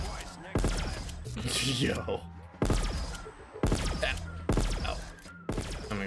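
The Ray Stake 12 burst shotgun in Black Ops 3 Zombies fires in loud, booming blasts, five or six spaced about a second apart, each trailing a rumbling tail, with a brief voice and gasps between shots.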